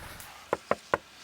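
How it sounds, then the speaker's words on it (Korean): Three sharp knuckle raps on a taxi window, evenly spaced and close, standing out clearly over quiet background hiss on a dark mountain road. "창문을 두드렸어요."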